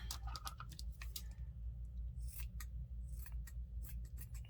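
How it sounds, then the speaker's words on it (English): Scissors snip repeatedly through the arm of a Dollar Tree craft gnome, a run of close, crisp cuts in an uneven rhythm over a low steady hum. "so let's trim this arm down"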